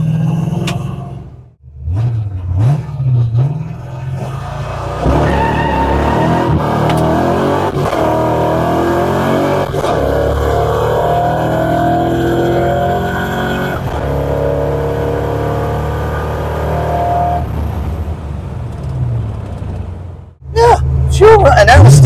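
Car engine revving hard with wheels spinning on a street and the carburetor bogging, a loud close roar that holds for many seconds and then cuts off, with no talk over it.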